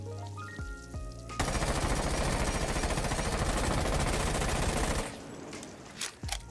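Amaru's G8 A1 light machine gun fires in Rainbow Six Siege as one loud sustained automatic burst of about four seconds, a dense rapid stream of shots, followed by a few quieter clicks and mechanical sounds.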